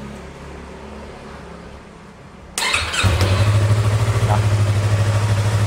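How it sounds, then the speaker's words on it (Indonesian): A Yamaha R25 motorcycle, its starter just repaired, cranks briefly and then catches, settling into a steady, close, rhythmic idle; a voice speaks a single short word just before. "Dan kita sekarang cek ya, mudah-mudahan lancar starternya."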